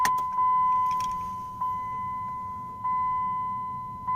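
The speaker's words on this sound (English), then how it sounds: "Turn the ignition, see what happens." Ignition turned on in a 2003 Ram truck: a steady electronic chime tone rings through, accompanied by a few key and mechanical clicks and small step changes in the hum, close and moderately loud.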